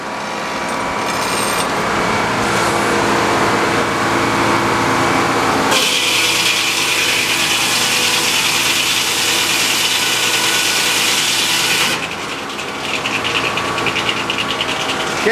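An ash log is sawn into boards on a sawmill, the blade roaring loud and steady through the cut for several seconds, then dropping away to the engine idling and knocking.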